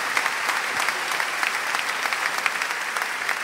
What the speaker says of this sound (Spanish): Un aplauso de este público